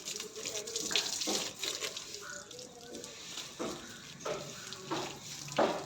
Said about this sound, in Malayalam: അപ്പം ഞാൻ നനയ്ക്കാമെന്ന് ഓർത്തു.